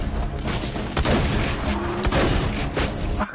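Rapid bursts of gunfire from the video game Borderlands 2 crack out over a busy background, several sharp shots in quick succession with a boom near the end.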